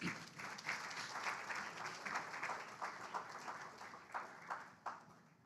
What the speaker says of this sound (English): Let us applaud the 5Cs.